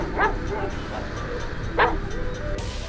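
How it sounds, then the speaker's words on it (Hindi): Dogs bark and yip at a guest house at night, several sharp bursts at a moderate distance, spaced irregularly over a low background rumble. "तभी कुत्तों की आवाज और बढ़ गई"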